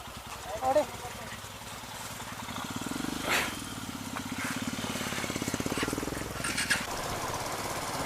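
A Royal Enfield Himalayan motorcycle that has broken down on a hill at night runs with a low, rough, pulsing idle thump, close by, while people talk over it.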